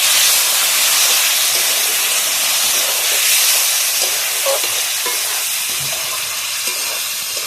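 Spice masala for aloo dum sautés in a pan with a loud, steady, hissing sizzle that runs close and continuous, with faint stirring knocks underneath and no speech.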